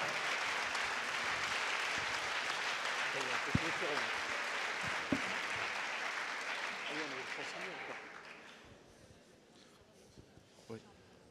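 An audience at a trophy ceremony claps for a second-place winner in a dense, steady burst that fades out over several seconds, leaving scattered claps and a voice speaking.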